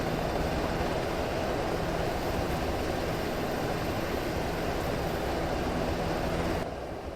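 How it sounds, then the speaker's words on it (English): A loud, unbroken mechanical roar, like a helicopter's rotor and engine close by, drones steadily and cuts off abruptly near the end. "This helicopter is very loud."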